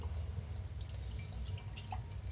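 Homebrewed beer poured slowly into a glass, a soft, close trickle of liquid with faint dripping over a low background hum, lasting a couple of seconds with no talk.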